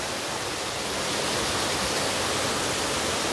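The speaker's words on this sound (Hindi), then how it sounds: "नीचे बिल्कुल फॉल्स का पानी है" Waterfall water rushing below a living root bridge in Meghalaya after rain, heard as a loud, unbroken broadband roar with no pauses and no voices.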